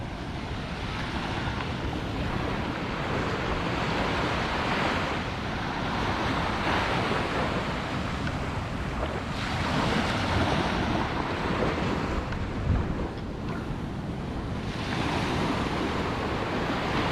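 Large ocean waves break and wash continuously onto Senggigi beach, Lombok, where fishing boats are pulled up on the sand; the roaring surf stays loud and steady throughout with wind buffeting the microphone and no voices.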